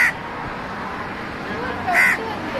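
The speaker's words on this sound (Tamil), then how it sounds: "அந்த காக்கா பார்த்தா தான் பயமாகுது" A pet crow caws twice, once at the start and again near the end, close and fairly loud over a noisy background.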